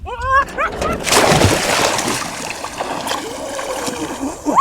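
Something splashes into water in a loud burst of churning, sloshing noise, with a voice heard over it at the start and end.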